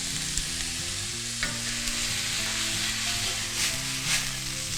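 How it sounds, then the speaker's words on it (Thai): Instant noodles stir-fried with soy sauce and sugar, a continuous loud sizzle with occasional spatula scrapes over a low steady hum, close up and with no talking. "ผัดให้เข้ากันค่ะ"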